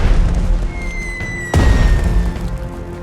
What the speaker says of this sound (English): Starting bomb run.